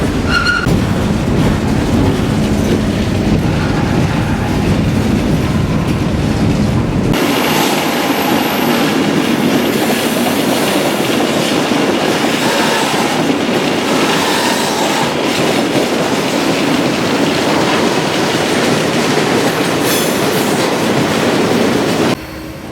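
A freight train rumbles steadily along the rails near the Keddie Wye, loud and continuous, with a brighter rushing tone after the first few seconds and faint metallic squeals.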